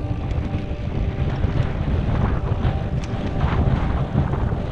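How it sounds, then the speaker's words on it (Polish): Steady strong wind roars and buffets the microphone as cyclists ride into a headwind across the Kazakh steppe, a continuous rushing noise with no talk. "A na dodatek dzisiaj cały czas jedziemy pod wiatr."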